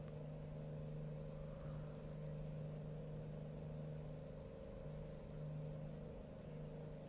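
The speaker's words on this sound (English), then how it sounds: "It sounds so loud. It's just an engine." A car's engine drones loudly and steadily while driving, a constant beefy hum with slight swells in level and no voices over it.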